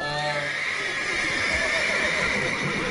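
Horses in the video game Witcher 3 neigh and whinny loudly with shrill harmonic cries over the clatter of hooves, close and prominent throughout.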